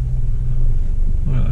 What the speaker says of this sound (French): On sent qu'elle cafouille un peu là.